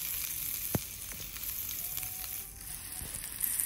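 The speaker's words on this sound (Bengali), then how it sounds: "তারপর পেঁয়াজ কুচিগুলি তেলে দিয়ে দিলাম" Chopped onions hit hot mustard oil in a kadai, giving a steady, close sizzle and crackle that runs the whole time, with a few small pops and no voices.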